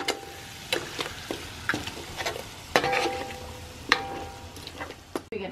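A spoon scrapes and turns Guyanese hassa curry with eddoes in a sizzling pot, with repeated close stirring knocks over a steady frying hiss and no talking.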